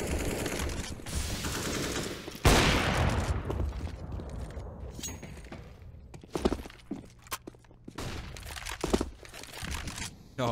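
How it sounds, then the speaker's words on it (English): Desert Eagle and CZ pistol shots in a Counter-Strike esports match: a sharp loud crack, then scattered, irregular shots and clicks at mid distance over a busy game background. "What can be done with the pistols? The Deagles alongside the CZ."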